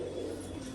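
A female Rajshahi pigeon cooing, a low steady murmuring coo held close and continuous through a brief moment, with no voices.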